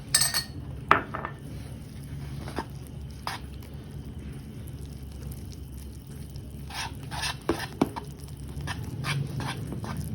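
A spoon stirs paratha batter thinned with water in a metal bowl, making scattered clinks and scrapes against the sides at an uneven pace, close and moderately quiet over a low background hum.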